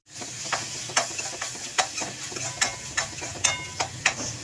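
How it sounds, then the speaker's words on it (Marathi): Chopped tomatoes cook in masala over low heat, a quiet steady sizzle broken by regular sharp scrapes of a spoon stirring the pan, close and without speech. "हा मसाला आपल्याला टोमॅटो मऊ पडेपर्यंत शिजवून घ्यायचा आहे."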